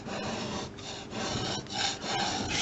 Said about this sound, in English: Paint scraper here, I'll just go along the edge of the road,